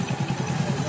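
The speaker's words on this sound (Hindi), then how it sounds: "ये देखिए, गाड़ी स्टार्ट हो गई है" A motorcycle engine idles after its spark plug was replaced, giving a steady, close, rhythmic low putter with even pulses throughout and no talking.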